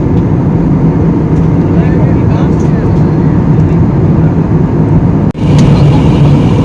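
Steady loud broadband roar of airliner engines heard from inside the cabin as the plane descends toward Delhi, continuous and even throughout with one brief dip near the end.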